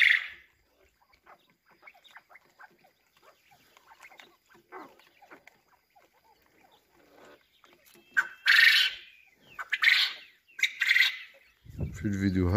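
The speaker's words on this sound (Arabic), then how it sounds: "طائر السمان يقوم بشرب الماء." Quail kept at home, one drinking water, give sharp high calls in a quiet indoor setting, a few louder bursts near the end after faint scattered pecking and rustling.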